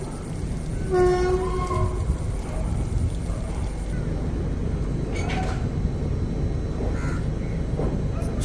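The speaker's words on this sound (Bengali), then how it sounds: "হাটেবাজার এক্সপ্রেস মালদা টাউনের প্ল্যাটফর্ম নম্বর 2 থেকে ছেড়ে যাচ্ছে।" Hate Bazare Express, Sealdah to Saharsa, pulling out of platform 2 at Malda Town station, with a loud horn blast near the start, then steady rumble and clanking of the carriages.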